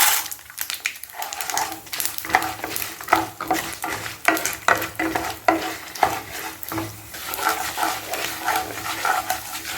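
Dried red chillies, chana dal and peanuts fry and crackle in hot oil while being stirred, with close scraping and clinking of a spoon against the pan in an irregular rhythm, no talking.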